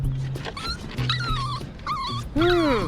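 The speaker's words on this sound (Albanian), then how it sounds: "Je një këlysh llafazan." A cartoon puppy whimpers and yips in a string of short, high, wavering cries, ending in a louder rising whine, over quiet background sounds.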